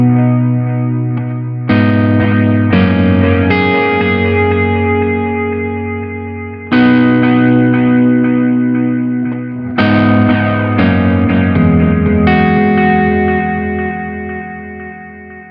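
Guitar played through a Sonicake Sonic Ambience delay pedal with the repeats set to full, sustained chords ringing out with long echoing trails that fade without building into runaway feedback, loud and continuous.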